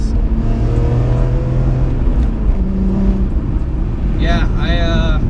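A 2004 BMW M3 engine drones and revs steadily from inside the car while driving, loud and constant, with rising pitch sweeps and people talking over it.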